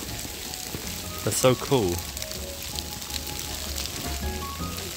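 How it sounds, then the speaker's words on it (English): Sleet pattering onto a raincoat at minus six degrees outdoors in the Huangshan mountains, a steady dense crackle like frying, with a person speaking briefly over it. "It is negative 6 degrees. It's like sleet."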